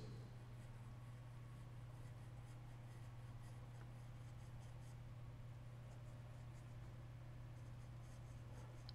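A pencil sketching a wine glass on paper makes continuous soft scratching strokes close up, steady and uninterrupted throughout.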